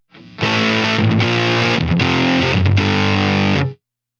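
An electric guitar runs through a Line 6 Helix fuzz with a boost placed after it, giving a thick, compressed, saturated tone; a short quiet lead-in, then a loud sustained chord with a few brief dips, stopping abruptly.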